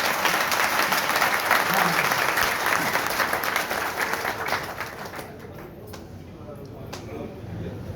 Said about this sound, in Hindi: हमें लग रहा है ताली थोड़ा सा कम बजा रहा है, जितना उत्साह से लोग आए हैं।